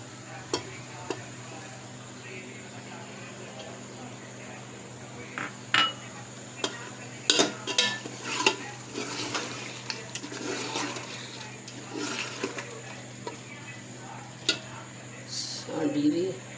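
Arvi gosht masala is stirred and fried in a pot with fresh coriander: a low frying hiss runs throughout, broken by repeated scraping and clattering of a spoon against the pan, loudest in the middle and near the end.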